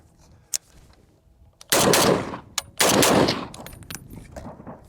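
Two loud, close bursts from a SAP Taakmag R1 Para carbine at a shooting range, each about a second long with rapid overlapping reports, separated by a short pause and a few faint clicks.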